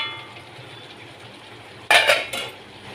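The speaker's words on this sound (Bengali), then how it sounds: "এবার এর মধ্যে মাছগুলো আমি দিয়ে দিচ্ছি।" Morola fish dropped into a cooking pan for a Bengali chorchori, a quiet stretch broken by a sudden loud clattering splash of fish and utensil against the pan, then a shorter second clink.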